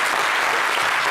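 A studio audience at a French-language TV variety show applauds in a dense, steady burst of loud clapping that fills the whole moment.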